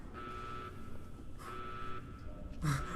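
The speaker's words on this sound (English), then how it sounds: "isn't the alarm sounding because you're gonna blow it up?" A Brotherhood of Steel bunker alarm in Fallout New Vegas sounds in repeated buzzing pulses, three blasts at roughly even intervals over a low background rumble.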